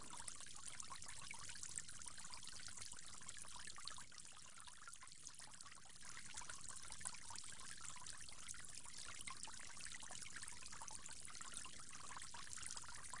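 Tap water pours in a faint, steady trickling stream during ablution while the mouth is rinsed, continuing unbroken with a brief dip midway and no voices.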